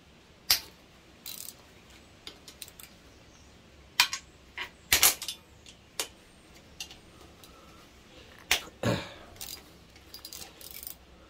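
Clicks and ratcheting ticks of a 10 mm socket wrench working the three ignition coil bolts on a Honda ST motorcycle, close and irregular, with sharp metallic taps and short bursts scattered over a quiet background.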